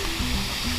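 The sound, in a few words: 40 metre jungle waterfall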